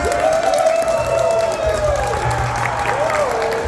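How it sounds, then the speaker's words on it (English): Audience at a furry convention panel applauding and cheering steadily, a dense wash of clapping with tonal whoops riding over it and some voices mixed in. "Give us a round of applause!"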